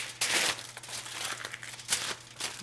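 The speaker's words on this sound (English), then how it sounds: "It's totally worth it to take a second to line your baking sheet with aluminum foil." Aluminum foil being pulled and pressed to line a baking sheet for meatloaf, giving soft crinkling and rustling bursts with a louder stretch near the start and brief crackles later, close by.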